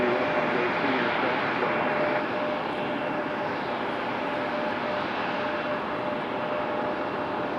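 A JetBlue Airbus A321 turning on the ground at Raleigh-Durham International Airport, its engines giving a continuous, even roar close by with a steady whine and no break.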